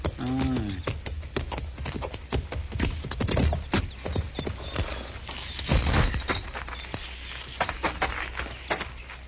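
Horse hooves clip-clop in a corral as a radio drama sound effect, with a quick, uneven run of moderately loud clops and a short whinny-like tone at the start.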